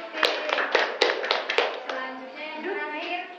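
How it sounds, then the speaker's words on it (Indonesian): A classroom of students claps hands in a quick rhythmic pattern of sharp, close claps, followed by a chorus of young voices chanting together. "Tepuk tangan buat mengikuti."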